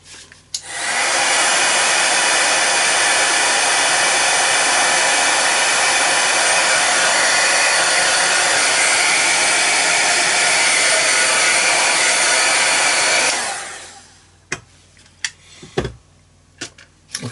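Hair dryer blowing on wet watercolour paint of an autumn maple leaf, a loud steady whoosh running for about thirteen seconds before it cuts off, then a few soft knocks and handling sounds.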